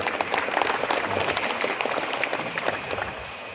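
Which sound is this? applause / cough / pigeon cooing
applause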